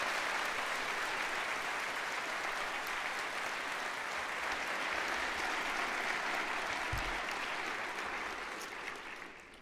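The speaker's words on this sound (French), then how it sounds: "applaudissons chaleureusement nos invités" Warm, sustained applause from a crowd of guests and families fills a university graduation ceremony, steady and dense for several seconds before tapering slightly at the end.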